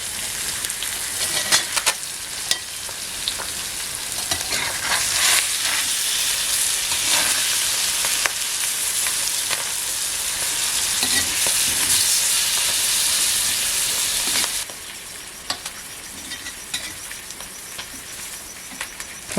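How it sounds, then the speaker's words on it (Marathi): River fish fries on a griddle over wood embers with a loud, continuous hissing sizzle and scattered crackles, then drops sharply quieter near the end with sparse pops. "एक लाकडू फक्त लावलेलं आहे निखाऱ्यावरती मच्छी फ्राय होते"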